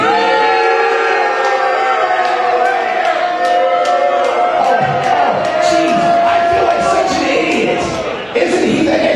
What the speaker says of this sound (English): everybody make a nice warm round of applause for the new member of the studio